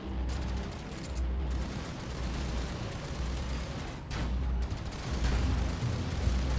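Rapid video game gunfire crackles in a dense, continuous barrage over a steady rumbling background, loud and sustained with brief dips.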